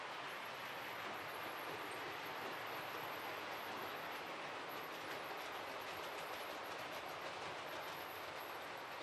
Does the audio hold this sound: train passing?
yes